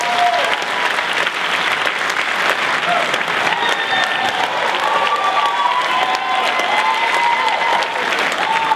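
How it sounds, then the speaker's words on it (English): An audience at a school alumni showcase gives sustained, loud applause to a tap dancer. Dense clapping continues steadily throughout, with a few crowd voices mixed in. "Give a warm round of applause to Michael Grbich"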